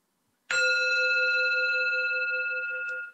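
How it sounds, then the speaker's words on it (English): A meditation bell is struck once in a quiet room, giving a clear bright strike followed by a pure, steady ringing tone with overtones that sustains and fades slowly over about three seconds, alone without voices. "a bell ringing."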